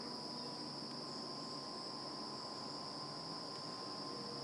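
Insects fill the air outdoors with a steady, continuous high-pitched drone, an unbroken even chirring hum that stays constant throughout with no voices over it.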